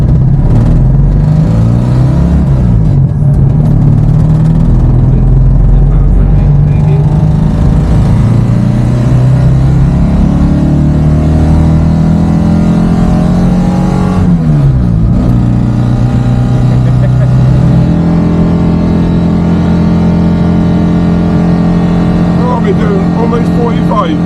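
Citroen 2CV fitted with a racing exhaust, heard from inside while driving: a loud, continuous buzzing engine drone that rises and falls as the car changes gear, with people talking over it.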